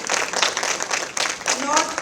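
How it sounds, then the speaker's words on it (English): An audience at a prize ceremony for a national inter-college crossword contest applauds three winning teams, with steady close-packed clapping that holds through the whole stretch and swells in places. "please give a big round of applause to these three winners, IIT Delhi, IIT Guwahati and Sastra University"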